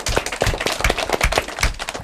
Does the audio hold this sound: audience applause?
yes